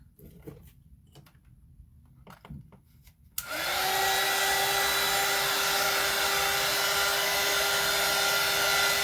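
After a few soft taps and rustles, a handheld dryer switches on abruptly and blows a loud, steady whirring roar close by to dry red paint on a gingerbread clock.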